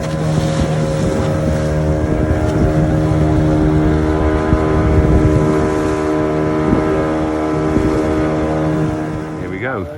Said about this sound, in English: Small bunch of us in this little boat.